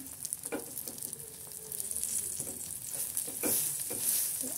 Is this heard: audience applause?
no